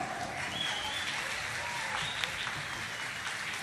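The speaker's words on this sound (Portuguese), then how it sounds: "Eu quero um aplauso para este moço natural da cidade de Charqueadas, no violão canhoto, Jonas Cândido." Audience applause at a live radio show for a left-handed acoustic guitarist, a steady wash of clapping throughout at moderate level.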